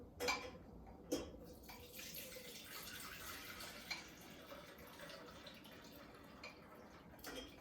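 Heated milk for homemade ricotta pours through a kitchen sieve with a steady watery splashing and trickling, a few louder splats near the start and end, close and alone with no talk.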